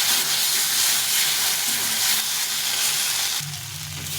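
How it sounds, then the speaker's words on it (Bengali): Steady loud sizzle of a ginger, cumin, chili and onion paste frying in a pan, a dense continuous hiss that softens slightly near the end, with no talking. "আদা জিরে লঙ্কা আর একটা পেঁয়াজ বেটে নিয়েছিলাম এটা দিয়ে দেবো একটু ভালো করে কষিয়ে নেব"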